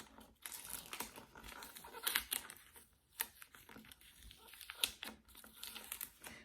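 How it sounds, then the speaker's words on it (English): Tape being peeled off the front of an acrylic pour clock face, close crinkly tearing and crackling in irregular bursts with a few sharp snaps, fairly quiet overall. "And then we're going to take this tape off."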